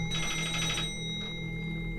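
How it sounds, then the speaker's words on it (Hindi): A telephone rings at night in a horror-style video game, a bright repeating electronic ring over a low ambient drone for under a second before fading out, with no one talking. "अब किसका फोन आ गया भाई इतनी रात को?"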